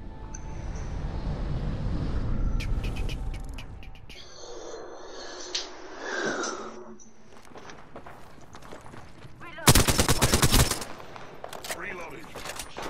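Gunfire in the Apex Legends video game, with bursts of shots amid game sounds and a loud, dense stretch of firing near the end.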